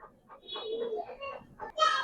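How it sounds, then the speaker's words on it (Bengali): A female pigeon gives a short, soft coo close by, a brief rising burst ending the sound. "দেখেন মাদি কবুতর ভাই"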